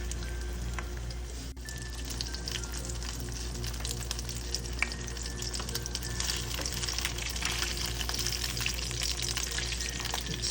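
Burger steak patties fry in a hot pan with a steady, dense sizzle that holds at an even level throughout, with a few scattered pops and crackles.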